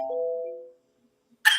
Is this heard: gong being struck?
yes